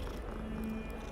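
A cat purrs softly in the Hogwarts Legacy video game, a low, steady rumble with a brief tonal hum midway, quiet and close.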